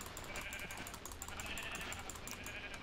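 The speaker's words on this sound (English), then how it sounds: "We got a lot of sheep here" Several Minecraft sheep bleating in a repeated pattern, faint and thin, with little else around them.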